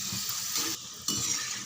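Potato chips frying in hot oil give a steady, loud, bright sizzle and crackle, with faint stirring movements underneath and no talking.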